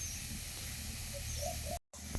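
Chopped onion hitting hot oil in a heated wok, giving a dense, even hiss that holds steady at moderate level before cutting out for a moment and returning briefly.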